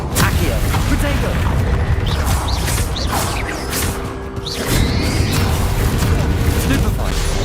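Rapid spell blasts in the video game Hogwarts Legacy: loud, dense bursts of booming impacts and whooshing magic effects that run almost without a break, with voices calling out over the action.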